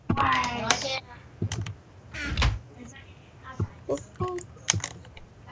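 Computer keyboard keys tapped repeatedly during a Minecraft survival match, giving scattered clicks and short bursts mixed with a nearby voice talking over them.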